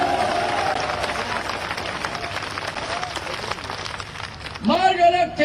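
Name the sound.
crowd applauding at a political rally in Dabra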